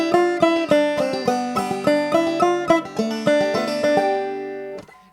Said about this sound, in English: We can replace that with an alternate string pull off.